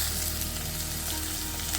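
Onion and tomato frying in a pan for Indian-style egg bhurji, a dense continuous sizzle heard up close with no voices over it.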